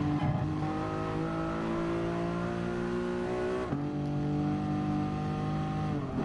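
A McLaren race car in the Gran Turismo video game holds a steady, loud engine drone with layered harmonic tones, briefly dipping in pitch around the gear change before climbing again, with no talking.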